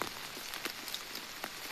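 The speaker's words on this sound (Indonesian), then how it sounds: "Ini kondisinya gerimis lagi." Light drizzle falls steadily on leaves and surfaces outdoors during an avocado and banana harvest, a soft continuous patter with scattered louder drops and no talking.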